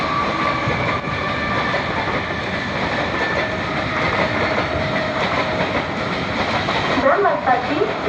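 A Mumbai fast local train bound for CSMT at Dombivli station platform 5, its continuous rumble and rhythmic clatter of wheels on rails loud and close throughout, with faint squeals near the end.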